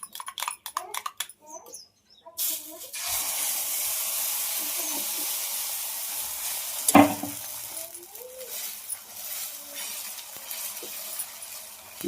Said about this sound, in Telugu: ఆమ్లెట్ వేస్తున్నావా?